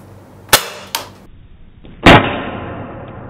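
Close, sharp cracks from a CZ 75 P-07 Duty CO2 BB blowback pistol firing: two quick shots half a second apart, then a louder third shot whose hiss trails off slowly.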